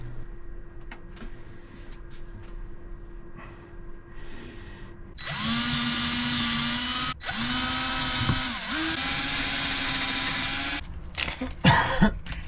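Cordless power drill driving screws to fasten rails onto the underside of a birch crosscut sled for a DeWalt 7485 table saw, with several sustained whirring bursts and brief pauses between them, loud and close, ending with a few clicks.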